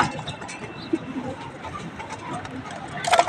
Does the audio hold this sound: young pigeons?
yes